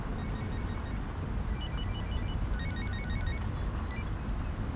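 A telephone rings during a call, repeated electronic ring bursts in short pulses over a low steady background hum, fairly quiet and with no talking.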